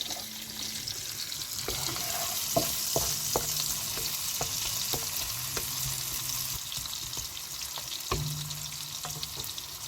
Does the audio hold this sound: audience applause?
no